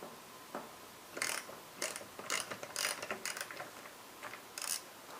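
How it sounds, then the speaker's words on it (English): Ratchet wrench loosening the front pinch bolts on a Ducati M1100 motorcycle during a front tire change, giving several short bursts of quick clicking, close and fairly quiet, with pauses between strokes and no speech. "Now I'm going to loosen my pinch bolts."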